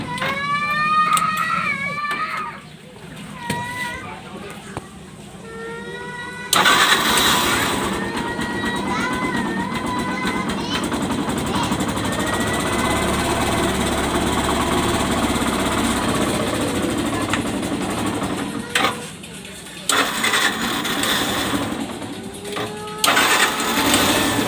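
A Yamaha YTX 125 motorcycle engine starts cold with a rising whine, then settles into a steady idle, with chirping birds in the background and brief revs.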